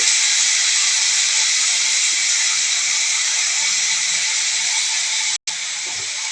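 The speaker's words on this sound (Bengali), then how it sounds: "দিয়ে দিচ্ছে করল্লা এবং আলু" Bitter gourd and potato pieces dropped into hot oil for a fried bitter gourd dish give a steady, loud hiss of sizzling that runs unbroken, with a brief cut near the end.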